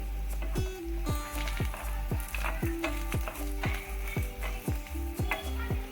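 Cashews fry in a pan with garlic, giving a steady sizzle broken by regular stirring scrapes and clinks of the spoon, loud and close with no voices.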